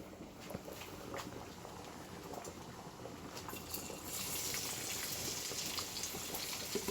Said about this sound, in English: Now that the noodles are starting to boil